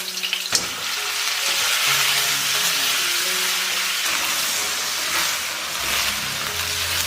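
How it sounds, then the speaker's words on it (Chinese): Duck meat stir-fried in hot oil with ginger slices, a steady loud sizzle and hiss filling the whole stretch, with stirring scrapes and small bursts of spatter, no talking. "然后加入鸭肉煸炒"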